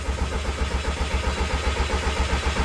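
A car engine cranks on the starter with rapid rhythmic chugging throughout, loud and close, without catching; the engine had hidden crash damage and is being cranked to build oil pressure.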